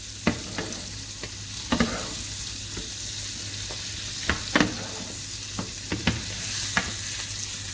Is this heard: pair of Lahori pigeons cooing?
no